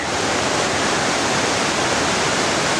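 Running water rushes steadily beside a mountain campsite in the Glacier Peak Wilderness, a continuous dense hiss-like roar at even loudness throughout.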